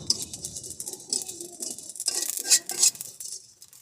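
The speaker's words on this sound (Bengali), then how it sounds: "এবার আমরা জিরাগুলো ভেজে নেব" Cumin seeds dry roasting in a pan for Lahiri chicken, a light close patter and scratchy stirring of small seeds against metal, soft and continuous with slightly louder scrapes midway, no talking.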